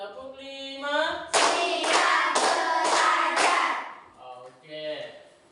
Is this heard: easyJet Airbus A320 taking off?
no